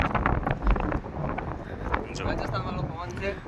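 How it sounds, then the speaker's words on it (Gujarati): Strong wind buffets the microphone in heavy low rumbling gusts, while voices talk underneath, outdoors in Namibia. "પવન છે જોરદાર"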